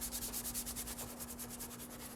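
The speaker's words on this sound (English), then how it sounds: "just start working the cleaner back and forth to agitate it" A brush works foaming engine cleaner back and forth across a BMW 328i valve cover, giving a steady rhythmic scrubbing of about ten quick strokes, close and fairly quiet.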